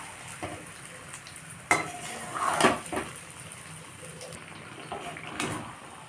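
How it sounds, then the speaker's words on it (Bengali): Spice paste for mango pickle being stir-fried in a pan over medium heat, with a soft steady sizzle, a few scraping strokes of a spoon and one louder clatter midway, no talking. "মিডিয়াম আঁচে আমি মশলাটাকে ভালো করে কষে নেব,"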